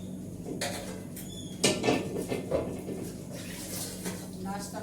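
Dishes, pots and metal utensils being washed by hand at home, with scattered clinks, scrapes and knocks that come in irregular bursts close by.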